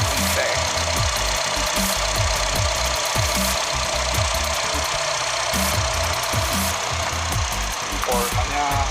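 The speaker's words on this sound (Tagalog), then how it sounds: "Ayan ang kanyang engine," A 2010 Honda City 1.5 i-VTEC car engine runs at a steady idle, loud and close, with a continuous low rhythmic throb and a faint ticking knock throughout.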